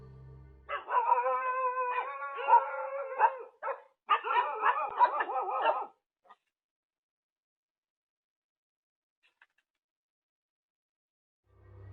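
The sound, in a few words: dog barking in security camera footage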